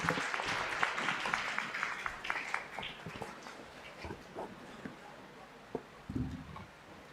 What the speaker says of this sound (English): Let's give a big round of applause to both our finalists